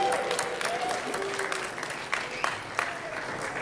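Crowd applauding and cheering at a Marvel Heroes game panel at PAX East 2013, a steady wash of clapping with a few sharper peaks, with voices mixed in.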